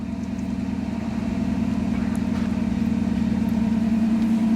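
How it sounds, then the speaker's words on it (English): A 1957 Chevy engine idles roughly and steadily nearby as its choke tries to kick off too early, its rumble swelling slightly as it runs, with no voices. "Listen to her trying to kick the choke off too early."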